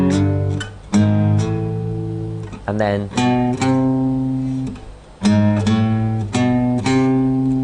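An electric guitar plays a riff in power chords, sustained chords separated by short picked slides and chromatic steps, close and loud. A voice briefly talks near the start.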